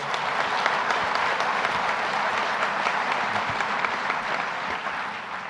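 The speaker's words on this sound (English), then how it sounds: "let's give her a round of applause" A large audience at a governor's economic development announcement breaks into steady, dense applause that holds evenly throughout, a continuous wash of many hands clapping at once.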